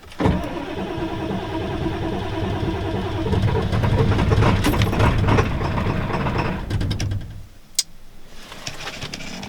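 A Ford F-250/F-350 with the 7.3L diesel cold-starts on a roughly 50-degree day: the starter grinds for several seconds, the engine catches into a loud, rough running roar, then the sound falls away near the end, followed by a sharp click.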